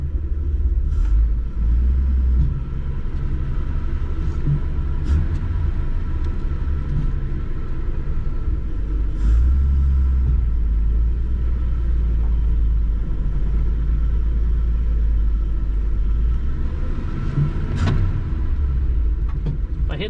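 A 1953 Plymouth Cranbrook, abandoned for over 25 years, runs while driving with a sticking pedal. The engine gives a loud, steady low rumble that swells slightly as it accelerates, with faint clicks and rattles throughout.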